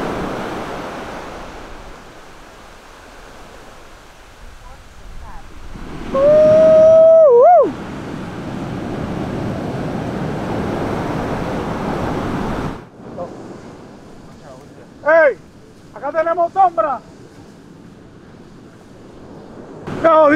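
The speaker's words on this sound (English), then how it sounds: "these waves are wild!" Ocean waves roll and crash on the Pacific beach at Costa Esmeralda, Panama, a broad steady surf roar with loud wind buffeting, interrupted by brief whistling tones and short bursts of voices.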